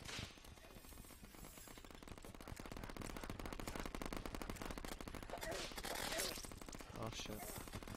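Rapid, continuous bursts of Terraria video game gunfire rattle along steadily like a machine gun, loud and dense for several seconds, with a player speaking over them.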